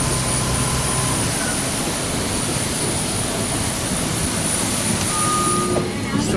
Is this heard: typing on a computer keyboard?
no